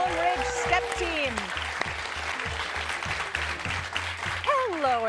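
Audience applause for a high school step team at a televised quiz show taping, a broad wash of clapping running steadily throughout, overlaid by loud, sweeping musical tones.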